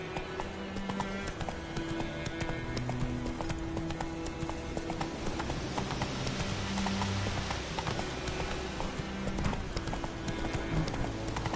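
A horse gallops in The Witcher 3 video game. Steady rhythmic hoofbeats clip-clop throughout at moderate volume, with game ambience and occasional faint tones underneath.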